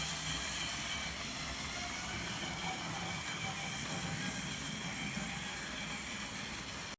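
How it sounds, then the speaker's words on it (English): A model GWR 101 locomotive runs past on a model railway, giving a steady, fairly faint whirring and rumbling noise that continues evenly and then cuts off abruptly. "Little GWR 101 going past. It's a nice little loco."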